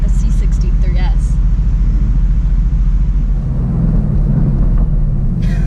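A 2018 Mercedes-AMG GT C Roadster's exhaust rumbles loud and close under steady engine drone while driving, with a few sharp crackles near the start and end.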